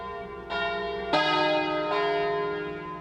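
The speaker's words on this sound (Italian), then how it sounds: "i rintocchi delle campane del campanile di Campese" Church bells in the bell tower of Campese, Italy, toll slowly, three rich strikes ringing out one after another, each blending into the lingering hum of the last.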